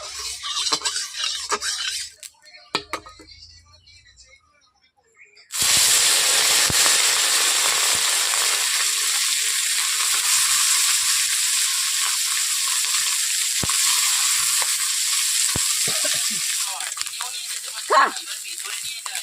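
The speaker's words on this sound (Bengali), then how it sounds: "এখন আমি কড়াই যেহেতু গরম হয়ে গেছে তার জন্য কড়াইতে মাছ ভেজে দিচ্ছি প্রথমে" After a few quiet seconds, loud, steady sizzling erupts as small freshwater fish hit hot oil in a wok, continuing with crackles and occasional scraping.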